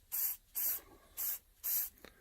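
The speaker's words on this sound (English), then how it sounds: "I'm just spraying WD-40 around the valves" Four short WD-40 aerosol spray bursts around the valves of a Land Rover 300 Tdi engine, each about a third of a second, evenly spaced with brief pauses, close and hissy, followed by a faint small click.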